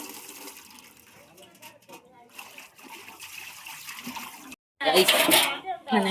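Water pours and splashes steadily while fish are washed, a continuous close wet rush with a brief gap before a louder surge of splashing near the end; people talk over it.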